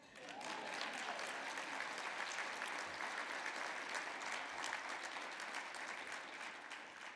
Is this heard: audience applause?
yes